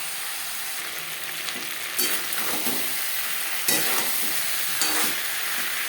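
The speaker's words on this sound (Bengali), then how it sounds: "হলুদের গুঁড়ো লবণ হলুদ দিয়ে পটল হালকা করে ভেজে নেব" Pointed gourd pieces with turmeric and salt sizzle in hot oil with a steady crackling hiss, punctuated by several scraping stirs of a spatula, close up and without speech.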